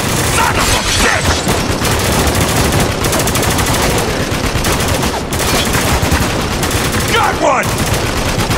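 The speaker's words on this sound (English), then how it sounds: "Hurry, we're taking heavy fire." Dense, loud gunfire from Spec Ops: The Line rattles almost nonstop, with overlapping automatic bursts and booms filling the whole stretch of a heavy firefight.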